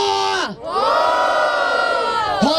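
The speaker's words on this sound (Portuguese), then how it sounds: "Barulho para as rimas do Mota!" Crowd at a rap battle in Barueri, São Paulo, roaring and whooping in a loud sustained cheer, with a brief dip before the noise swells again and holds.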